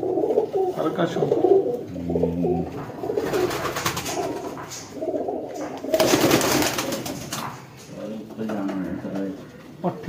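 High-flying pigeons in Okara coo close by in repeated low, throaty phrases, broken by a couple of noisy rustling bursts, with people talking in between.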